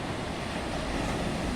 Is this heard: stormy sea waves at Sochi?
yes